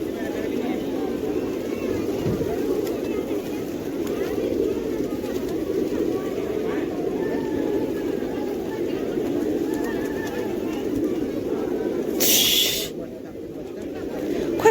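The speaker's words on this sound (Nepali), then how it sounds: "कति धेरै परेवा हो क्या" Many pigeons gather at Pashupati temple, their low cooing running softly and steadily under a constant outdoor murmur, with a brief burst of wing flapping near the end; voices talk in the background.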